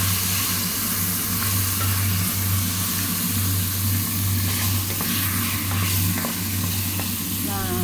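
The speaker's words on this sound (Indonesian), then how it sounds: "Ini matang banget dagingnya ini. Perlu kita aduk dulu biar nggak gosong." Beef for biryani fries in a pan while being stirred, a steady sizzle broken by scraping and clinking of the utensil, with a low hum running beneath.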